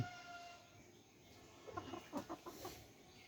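A few soft, quick clucks from a hen, close by and faint, after a quiet moment of low background hum.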